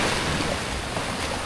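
Strong ocean waves crash against the shore at an abandoned beach resort in Cavite, a loud continuous roar of surf mixed with wind buffeting the microphone, with no voices.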